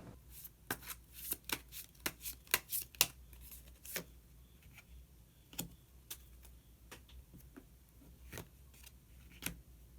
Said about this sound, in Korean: 히든 카드를 한 장 더 뽑아보도록 하겠습니다